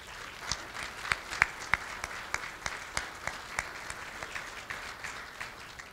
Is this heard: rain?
no